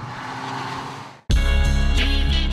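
An Audi A4 with the 2.0 TFSI engine, heard as a steady hum that cuts out and then comes back as a louder, fuller drone, with no talk over it.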